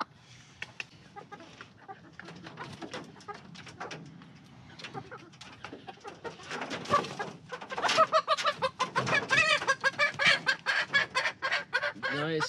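Cream Legbar chickens cluck and coo in a backyard flock, at first scattered soft calls, then growing louder and busier near the end, with a person talking quietly now and then.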